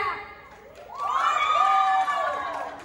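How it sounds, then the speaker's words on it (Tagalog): A crowd of spectators cheers and shouts for dance contestants at an OFW dance showdown, the noise swelling loudly after a moment and sustaining with high excited voices before tapering off. "Ang palakpak ang malalaman natin."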